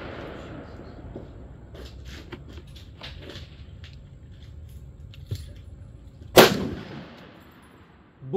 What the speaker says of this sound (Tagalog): Second shot.